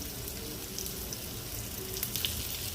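Bangda mackerel fish pieces fry in a pan, a faint, even sizzle and crackle running without a break and no voices over it.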